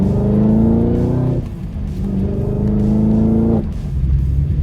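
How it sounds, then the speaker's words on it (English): A Chevrolet Camaro ZL1 with the supercharged LT4 engine runs at full throttle, a loud, close roar rising in pitch through two pulls, each ending in a sudden drop at the gear change. "I'm gonna give it full throttle here,"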